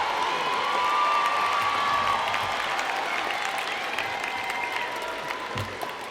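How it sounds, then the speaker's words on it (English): Graduates and their audience applaud at a spring university commencement ceremony, sustained broad clapping from a large crowd with scattered cheers, steady throughout and fading only a little. "Please applaud them."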